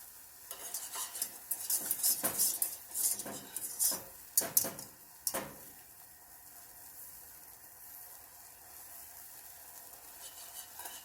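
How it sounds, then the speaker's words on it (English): A utensil scraping and clinking around a cooking pot for several seconds of busy stirring, then quieter simmering hiss, close by with no talking. "Just stirring it up to keep it from burning."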